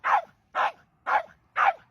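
A dog barks at another dog during a seaside campervan stop in Western Australia: four sharp, evenly spaced barks, close and loud, with silence between each one.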